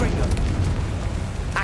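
A Confringo fire-blast spell in Hogwarts Legacy bursts out as a loud, sustained rumbling boom lasting over a second, with a brighter crackle near the end, and no talk over it.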